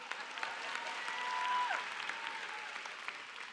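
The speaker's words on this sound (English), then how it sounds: "could y'all please give her a big round of applause" Broad, sustained applause from a large graduation commencement crowd at Nova Southeastern University, heard from a distance, with a faint whistle-like tone over the steady clapping.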